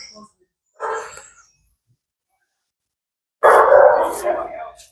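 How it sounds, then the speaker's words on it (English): Dogs bark at a front door, a short bark followed after a pause by a louder, longer burst of barking, fairly close. "The dogs come out and get right in front of the door."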